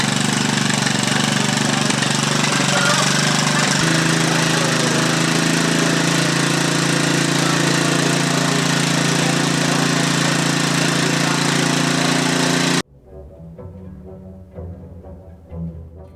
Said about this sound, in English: tune the engine to run smoothly